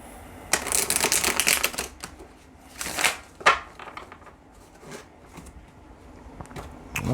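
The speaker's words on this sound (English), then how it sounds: "All right, one more shuffle." Tarot cards shuffled by hand in a few quick riffling bursts, close and crisp, separated by brief pauses and soft taps.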